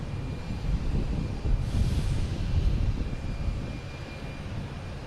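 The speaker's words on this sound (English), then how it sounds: "JetBlue taking off, heading to, where is that heading to? Punta Cana, A320." A JetBlue Airbus A320 takes off from Boston Logan bound for Punta Cana, a distant low jet rumble swelling briefly then holding steady under open outdoor air, with no voices.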